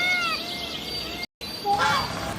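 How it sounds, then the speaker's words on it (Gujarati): Peacock calls, shrill high-pitched cries that come once early and once again later, with a brief silent break in between. "મોર"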